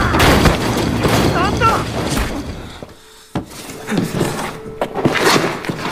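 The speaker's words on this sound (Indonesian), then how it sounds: "Sebuah trik andalan, yaitu granat palsu dari Hwang" Grenade blasts and bursts of gunfire ring out in a war film set during the Japanese occupation, loud booms and sharp cracks mixed with voices, a brief lull midway before the chaos resumes.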